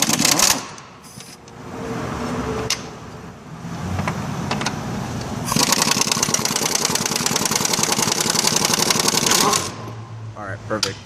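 Impact wrench working on the rear brake of a 1988 Honda Civic during a rear disc conversion, a loud rapid hammering burst in the latter half after quieter shop noise and talk.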